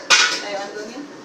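A metal pan set back down on a home stove to reheat after roasting sesame seeds, one sharp close clank followed by a brief ringing metallic decay.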